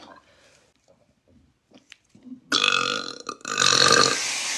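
After near silence with faint rustles, a loud close burp bursts out and runs on in two long, rough stretches broken by a brief pause, with no voices.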